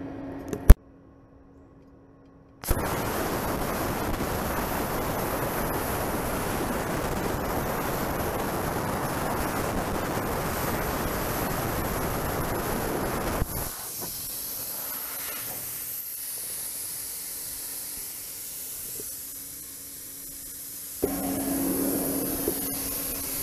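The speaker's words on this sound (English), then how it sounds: "So to cut these two vertical pieces here and here, I'm going to use my plasma cutter." Plasma cutter slicing vertical steel frame pieces on an equipment trailer, a loud, steady close hiss lasting about eleven seconds after a brief silence, then dropping to a softer hiss with a short louder tail near the end.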